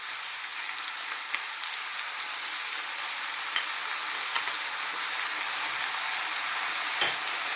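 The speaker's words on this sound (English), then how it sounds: "While I'm here, I'm going to add my garlic ginger paste." Garlic ginger paste hitting a hot pan over high heat for a chicken lentil curry, giving a loud, continuous hiss and crackle of frying with a few sharper pops, no voices.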